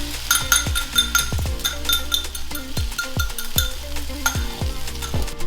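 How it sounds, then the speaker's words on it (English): Beaten eggs sizzling in a wok with vegetables and onions for egg fried rice, a continuous bright sizzle punctuated by rapid metallic scrapes and taps of a spatula against the wok. "I'm grabbing my whisked eggs, my beaten eggs, and I'm chucking it in the center here"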